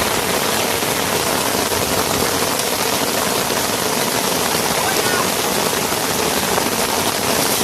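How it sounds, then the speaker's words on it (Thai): Heavy, steady rain pours down in a dense, loud roar that stays constant throughout, at Pa Sak dam in Lopburi, Thailand. "ฝนนะครับ"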